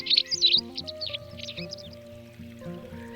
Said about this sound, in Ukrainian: плиска,